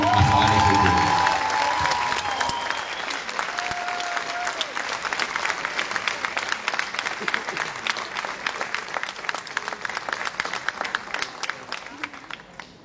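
Audience applause welcoming a performer onto the stage at a Palestinian solidarity event, dense and steady clapping from a large crowd that slowly thins and grows sparser toward the end, with a brief voice near the start.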